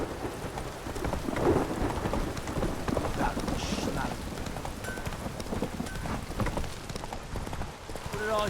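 Horse hooves galloping in The Witcher 3 game, a steady rapid clip-clop mixed with rumbling, rain-like ambient noise throughout, with a voice speaking briefly over it.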